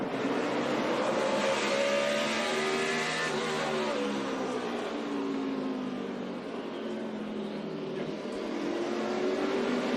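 NASCAR stock cars racing at the 2012 Goody's Fast Relief 500, engines roaring and sweeping past in overlapping revving tones that rise and fall, loud and continuous.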